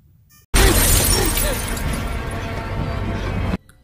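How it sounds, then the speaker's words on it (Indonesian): A car window shatters with a loud crash, followed by about three seconds of sustained crunching and tinkling debris, close by, then abrupt quiet. "datang memecahkan kaca"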